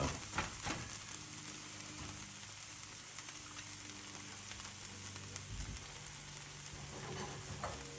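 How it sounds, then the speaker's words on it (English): Already-cooked beans heat in a skillet alongside eggs, crackling in a soft, steady sizzle with occasional stirring scrapes, fairly faint and uninterrupted. "All we're doing is just heating up the beans that are already cooked"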